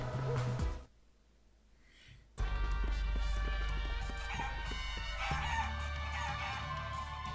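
Rooster crowing in the video game Guacamelee, a single loud cock-a-doodle-doo in a skeleton-filled land of the dead, rising out of a quiet gap over game music.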